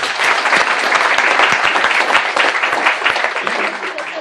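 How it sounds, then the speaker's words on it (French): A large crowd applauds loudly at a gathering of Laurent Gbagbo's family and people from Gagnoa, with steady, dense clapping filling the whole stretch close to the listener. "Il faut les applaudir très fort."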